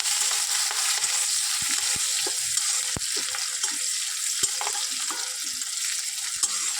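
Green chilli and garlic frying in hot oil, a steady broadband sizzle with occasional sharp pops and the scrape of stirring, close and continuous with no talking.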